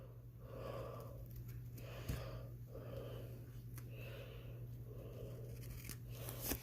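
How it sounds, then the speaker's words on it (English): Scissors snip very thin strips of paper for a model tug boat, giving a steady series of short, crisp cuts about once a second, close and fairly quiet with no talking. "We're gonna take the scissors here. We're gonna cut very,"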